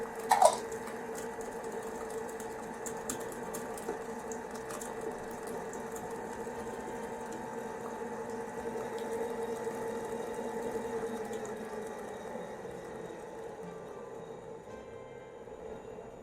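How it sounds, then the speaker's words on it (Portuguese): An electric stand mixer beats chocolate choux pastry dough at high speed, giving a steady, moderately loud motor hum with a rhythmic churning whir that holds evenly throughout and fades slightly toward the end. "quanto mais intensa tiver a velocidade da sua batedeira, mais rápido você chega ao ponto e mais uniforme fica a sua massa"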